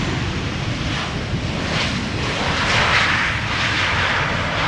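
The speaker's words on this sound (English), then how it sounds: "This is a Transavia 737 that is arriving" A Transavia Boeing 737 arriving at Amsterdam Schiphol makes a loud, continuous broadband roar, with wind rushing across the open airfield.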